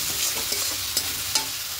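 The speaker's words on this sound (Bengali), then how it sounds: "এবার এখানে ভেজে রাখা আলুগুলো দিয়ে দেবো।" Fried potatoes going into cooked-down masala in a hot pan, a dense close sizzle with a few light stirring taps.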